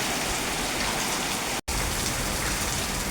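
Heavy rain pours steadily onto a tin roof in a dense, unbroken hiss, cut by one split-second dropout in the middle.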